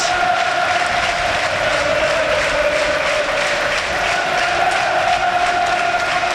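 Loud, unbroken stadium crowd noise from fans at Burnley v Blackburn in the EFL Championship, a dense roar with a steady sung chant carrying across the ground.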